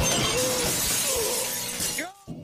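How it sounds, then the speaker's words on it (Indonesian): Car windshield glass shattering as a face is smashed into it during a fight scene in an Indian film, a loud, dense burst of breaking glass that fades over two seconds before a short drop to near silence. "Raffi menghajar Sela tanpa ampun hingga membenturkan muka Sela ke kaca depan mobil."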